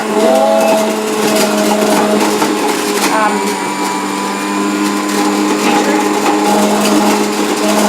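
An electric juicer runs loud and steady as it juices carrots and cucumber, giving a constant motor whine with grinding texture that stays close and continuous throughout.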